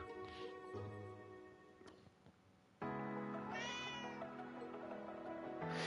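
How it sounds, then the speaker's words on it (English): Cat meowing in the video game Tokyo Xanadu eX+, several clear close meows over game music, the sound becoming fuller and louder partway through. "It's a cat. It's a Falcom cat."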